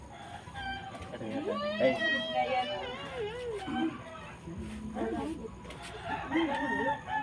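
Chickens cluck and a rooster crows amid the chatter of people talking nearby, with children's voices and other household noise in the background; the calls come in short bursts, moderately close.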